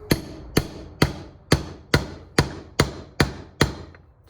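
A bearing tapped into a Yamaha Banshee part using a socket and hammer: nine sharp metallic strikes at an even, steady pace, close and loud, with no talk.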